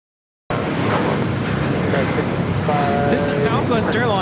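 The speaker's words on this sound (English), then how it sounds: "This is Southwest Airlines 2338 taking off to Dallas Love Field on a MAX 8." A Southwest Airlines Boeing 737 MAX 8 jet takes off from LAX, a loud, continuous engine roar that starts abruptly after a brief silence, with people talking over it.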